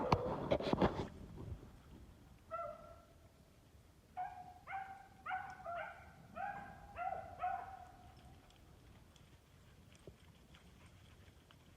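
Distant beagles bay in a run of about seven drawn-out calls, faint and spaced roughly a second apart, over quiet outdoor woodland background while hunting white hares.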